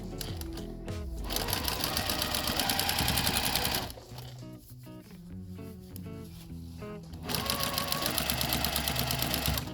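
A sewing machine stitches along the folded edge of a fabric face mask cover in two fast, buzzing runs split by a brief pause with light handling noises.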